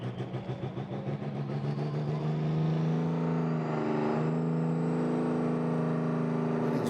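A pulling tractor's engine drones steadily at a power weekend pulling run, starting with a pulsing idle and then settling into a loud, sustained roar with a rising whine near the end.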